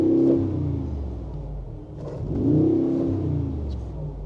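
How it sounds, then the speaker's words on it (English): The V8 engine of a Mercedes-AMG G63 4x4 Squared G-Wagon gives a couple of low, rumbling revs that swell and fade, heard from a moderate distance with no talking. "let's just give it a nice little rev from the start"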